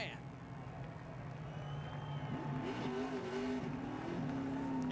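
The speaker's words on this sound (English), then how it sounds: "he's still trying to do burnouts" A race car does a tire-smoking burnout at a 2006 ARCA stock car race. The engine drones and rises faintly in the distance beneath ongoing commentator talk.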